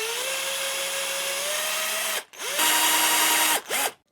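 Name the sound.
drilling holes in wooden lure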